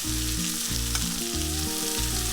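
A steak sizzles loudly in a pan of butter, oil and rosemary, a dense continuous frying crackle heard close up without any talking.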